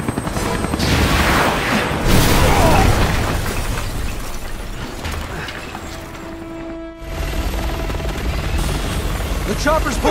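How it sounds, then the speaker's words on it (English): A helicopter in a Resident Evil 6 cutscene produces a loud, steady rotor roar throughout, with booms and bursts of combat noise mixed in and voices shouting over the din. "Chopper's pulling back!"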